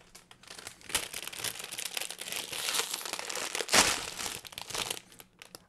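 Plastic bag of Lego parts for the 1989 Batmobile set 76139 crinkles and rustles continuously up close, with a louder tearing crunch midway and no talk over it.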